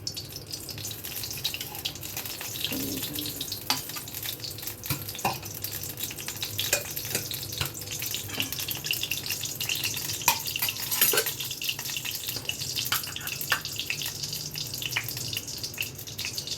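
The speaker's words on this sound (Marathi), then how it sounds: "ह्या चमच्याने 1 चमचा मी तेल घालणार आहे. आपल्या हलकीशी भाजी परतून घ्यायची आहे." Vegetables for a veg momo filling stir-fried in a spoonful of oil with salt, giving a steady, moderately loud sizzle with scattered scraping and clinking of a spoon against the pan throughout, with no voices.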